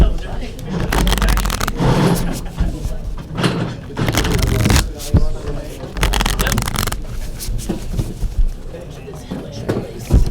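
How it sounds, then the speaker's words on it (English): A deck of cards for the game Genesis: Battle of Champions being shuffled at a table, with a long run of loud riffling and scraping bursts mixed with people talking throughout. "You shuffle your deck and then draw 5 cards."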